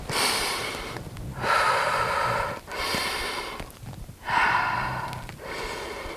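A woman in her second pregnancy trimester breathes heavily to recover after an upper-body weights workout. Deep, audible inhales and exhales alternate in a slow, steady rhythm, close and breathy, with no talking.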